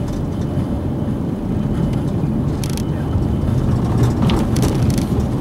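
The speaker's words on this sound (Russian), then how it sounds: "Рейсовый автобус." A route bus rumbles steadily past at close range on the road to Yalta, a low engine drone with broadband road noise throughout and no voices.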